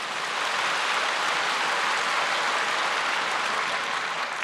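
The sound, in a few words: audience applause in church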